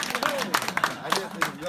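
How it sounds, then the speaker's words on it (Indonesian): Scattered hand claps from a small audience at a community gathering, a few sharp irregular bursts over a steady murmur of crowd chatter. "Iya, tepuk tangan dong."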